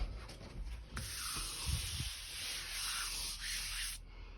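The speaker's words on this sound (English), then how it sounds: "I can rub my hands down them." Hands rub down drying plaster walls in a room, making a soft, continuous dry scraping hiss that swells and fades over a few seconds, close and fairly quiet.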